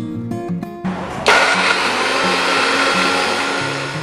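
A mixer grinder whirs into life and blends spices into a paste, a loud, steady, high-pitched motor roar that starts abruptly after a brief tonal lead-in and runs continuously to the end.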